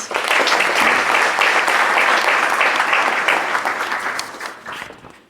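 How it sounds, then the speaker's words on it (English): An audience at a community charity event in Toronto gives a speaker another round of applause, a dense, steady wash of many hands clapping close by that holds for several seconds before thinning out and fading at the end. "Everyone, if you could please give Eddie one more round of applause."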